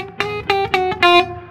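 Guitar picked too fast with hands out of sync on a single string: four uneven, slightly smeared plucked notes in quick succession, close and clear, with no talking.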